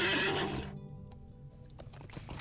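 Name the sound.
horse neighing in the video game LOTRO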